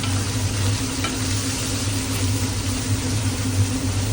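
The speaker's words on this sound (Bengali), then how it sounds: "ডিমটাকে একটু নাড়িয়ে নিলাম।" Egg frying in a pan while being stirred for homemade egg chowmein, giving a steady, close hiss of sizzling with a low hum beneath and no talking.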